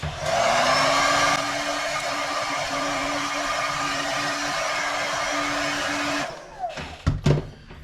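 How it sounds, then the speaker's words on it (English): A screen printing flash dryer blows with a loud, steady electric whir and hum, then shuts off, followed by a few clunks and handling noises. "we're going to flash dry it with our dryer here."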